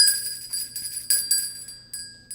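A doorbell used as a radio drama sound effect rings in a rapid, jangling series of sharp metallic strikes, fairly quiet and heard alone.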